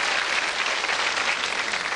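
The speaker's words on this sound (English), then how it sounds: "Give them an encouraging cheer, please." Dense, continuous applause from a television game show studio audience welcoming European contestants, loud and sustained with no break across the whole stretch.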